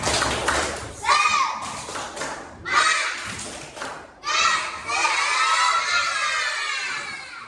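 Students in an Indonesian classroom chant and clap in unison for a spirit-clap routine, loud bursts of children's voices with rhythmic clapping, several short phrases separated by brief pauses, ending in a longer sustained group shout.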